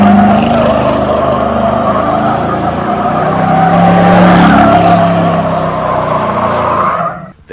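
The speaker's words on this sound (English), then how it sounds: "us smoking a donut in his truck" Pickup truck spinning a smoky burnout donut, tires squealing loudly and continuously over a revving engine before cutting off abruptly at the end.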